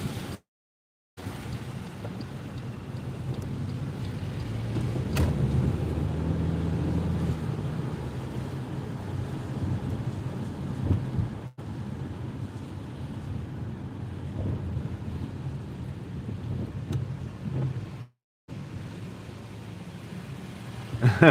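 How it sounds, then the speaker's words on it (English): Strong wind gusts buffet a phone microphone during a DoorDash delivery drive, a steady roaring rumble that swells and drops throughout, with brief dropouts and no speech. "the wind is whipping. Straight up whipping"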